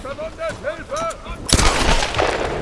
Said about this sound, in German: schieße ich dir ins Knie